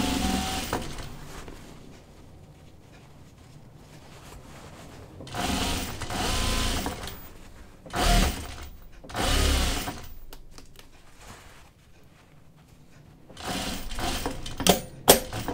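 A sewing machine hems a thick jeans seam, rattling in several bursts of stitching with quieter pauses between, close and steady, the pace slowing while it walks over the bulky seam.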